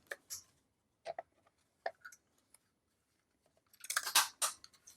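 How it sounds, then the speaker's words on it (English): Scissors cutting a small scrap of paper for a wine bottle gift tag: a few crisp separate snips near the start, then a longer burst of rapid cuts near the end, close and otherwise quiet. "And then I have this little scrap of paper. So I'm going to cut that."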